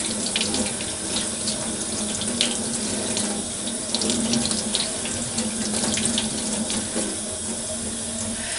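Tap water runs steadily and loudly into a sink as a makeup brush is rinsed by hand, a constant close splashing rush with small bursts of spatter. No one speaks.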